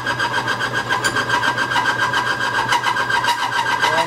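Extreme-pressure grease test machine running on a loaded bearing, a loud steady mechanical whir with a high, sustained squealing tone over a rhythmic rubbing grind, close and continuous, no speech.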